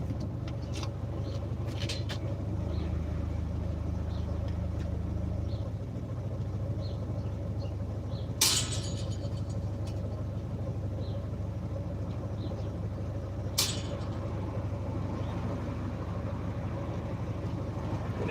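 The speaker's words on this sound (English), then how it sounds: "Traffic around this morning, which is rare this early." Morning road traffic passes steadily at a distance, a continuous low engine rumble with a couple of brief louder swells from closer vehicles, and no talking.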